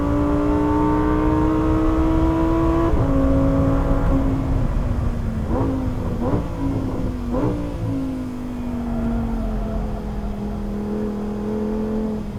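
On a race track, a Lamborghini Huracan Tecnica's engine is held at full throttle and climbs in a loud, rising wail, breaking off with brief dips at gear shifts before pulling on again.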